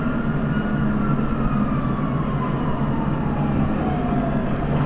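A train rumbles past in a PS4 stunt racing video game, a steady loud mechanical roar with a slowly falling tone that holds for the whole stretch, with no talking over it.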